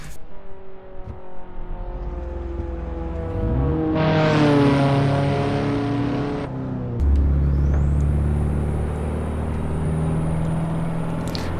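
A car on a country road during a driving lesson gives a steady engine drone and road rumble. The engine pitch rises and falls through gear changes with a surge of acceleration, heard close from inside without talk.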